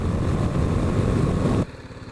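A serviced motorcycle rides along, its engine giving a loud, steady, rough drone that cuts out sharply near the end and leaves a quieter low rumble.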